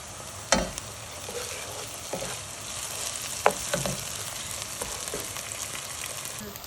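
Ginger garlic paste frying in oil in a pan, for a chicken curry, gives a steady low sizzle with a few sharp clicks of a utensil against the pan.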